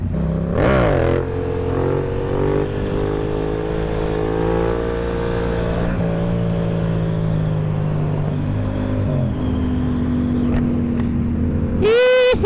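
Cars and motorcycles move through highway traffic, their engines humming and droning steadily with a loud rev swelling near the start and another at the end, over a constant road roar.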